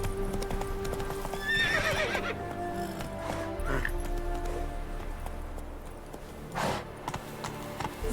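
Hoofbeats of the horse Roach gallop in The Witcher 3 as a steady, rhythmic clip-clop, with a whinny early on and game ambience underneath.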